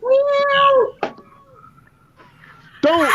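A cat meows loudly and close by, one drawn-out meow followed by a quieter gap, a brief thump, and then a second meow starting at the end.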